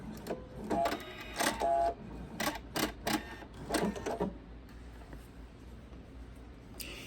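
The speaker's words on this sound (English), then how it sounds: "you'll sew diagonally off" A sewing machine stitches quilt binding diagonally off a fabric corner in several short, irregular bursts of clattering needle action, close and fairly quiet, then falls to near silence with one final brief burst.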